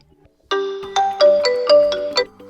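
A phone ringtone preview called "After the Rain" plays a loud, bright run of chiming melodic notes, about six in quick succession, each ringing on with a short decay, with no voices.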